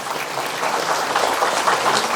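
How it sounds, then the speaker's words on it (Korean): An audience at a Buddhist book-launch ceremony applauds to welcome an honoured guest: a loud, dense, rain-like patter of many hands clapping, sustained evenly for about two seconds. "여러분 박수로 환영해 주시기 바랍니다."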